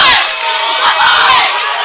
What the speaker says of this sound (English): Look at these fans behind us. They're going nuts.